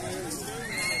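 A horse at a mandi horse market gives a brief, continuous whinny, close and fairly loud, filling the short moment.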